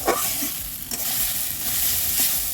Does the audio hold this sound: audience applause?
no